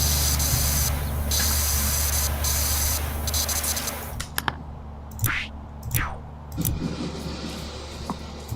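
A pressure washer sprayer in Power Wash Simulator gives a loud, continuous hissing blast for about four seconds, then stops into quieter, intermittent spray bursts and clicks.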